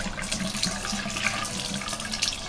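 Tap water runs steadily into a sink while a makeup brush is wetted, a soft, continuous splashing trickle heard close and fairly quiet.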